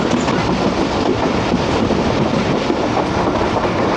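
13UP Awam Express running on rails through a mountain curve on the Lahore–Peshawar line, a steady loud rumble and rattle of wagons rolling continuously, close by, with wind buffeting and no talk.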